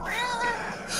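A small cat gives one drawn-out meow lasting about a second, close and fairly loud, with a brief rise at the end and no talk over it.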